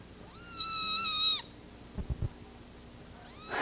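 Kittens meowing, a long clear drawn-out mew followed by a few soft thumps and the start of another mew, fairly quiet and close.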